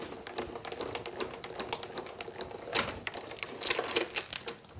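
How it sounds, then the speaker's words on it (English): A die-cutting and embossing machine presses a decorated card through with a background sheet, giving a run of quick mechanical clicks and taps under a soft whirring crank, fairly close and moderate in level. "I'm gonna give it a quick emboss"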